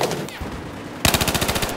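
Gunfire in the video game Battlefield 4: a rapid automatic burst of evenly spaced shots rings out loudly in the second half after a brief quieter lead-in.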